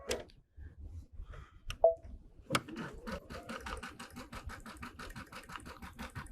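A sewing machine stitches in the ditch with cream thread on cream fabric while finishing a tiled quilt scene. A few handling clicks come first, then a fast, even rattle of stitches runs close and steady.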